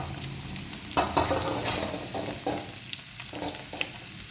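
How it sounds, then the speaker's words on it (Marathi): Mixed vegetables such as carrot, pumpkin, capsicum and tondli, with tomato, fry in a pan for masala rice, a soft steady sizzle broken by repeated scraping stirs of the spoon. "एक 5 मिनिट व्यवस्थित भाज्या फ्राय करून घ्यायच्या आहेत."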